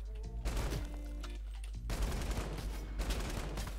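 Rapid video-game gunfire from a Fortnite 1v1 edit course map, with two dense bursts of shots separated by a short gap, loud and close with no talking.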